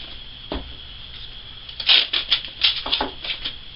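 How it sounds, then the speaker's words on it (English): Strips of 2-inch masking tape are pulled and pressed onto a cardboard seat cowl template for a 1996 Yamaha FZR, heard as a few close, brief rasping tears and rubs in a quiet room. "I use 2-inch masking tape."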